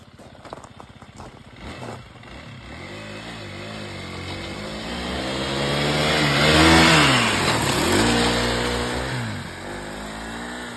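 A snow bike engine revs up and down on rough terrain, pitch sweeping higher and falling back in repeated climbs, loud and close, swelling to a peak midway before easing off.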